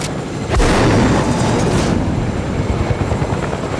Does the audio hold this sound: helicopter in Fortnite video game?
yes